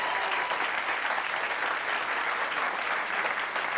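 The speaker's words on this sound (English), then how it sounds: "Give him a nice round of applause" A studio audience applauds steadily and fairly loudly for a few seconds, with even, dense clapping and no talking.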